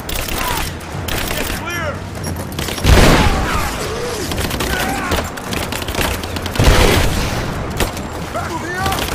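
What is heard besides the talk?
gunfire in video game Rise of the Tomb Raider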